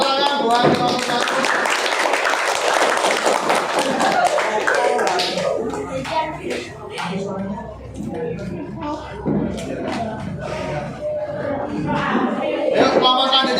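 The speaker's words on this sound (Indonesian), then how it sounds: "Beri tepuk tangan buat kelompok 1" A classroom group of students claps for the first group after its presentation, a dense, steady patter of hand claps lasting throughout, with voices and shuffling mixed in.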